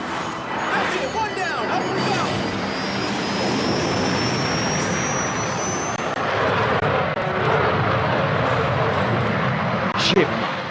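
A Rafale fighter jet engine roars loudly and continuously, with a thin high whine sweeping across the first seconds before the broad rumble holds steady to the end.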